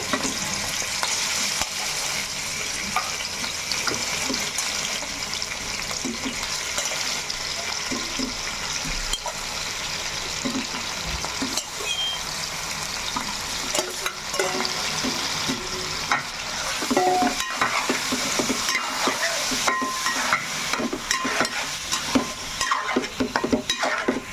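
Chicken pieces for a curry frying in heated oil, a sustained close sizzle and hiss with scraping, stirring clatter recurring throughout, growing somewhat louder toward the end, no voices.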